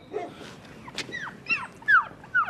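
A young female puppy lets out a series of high, thin whimpers and short yips, close by, spaced irregularly with quiet gaps between the cries.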